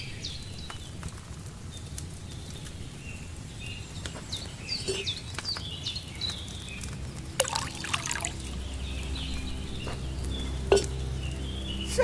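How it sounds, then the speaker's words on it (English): Wine is poured into a cauldron in the video game Kingdom Come Deliverance 2, a steady liquid trickle with faint clinks of pottery and a low room hum underneath, heard alone without talk. "First, you have to pour the right base into the cauldron."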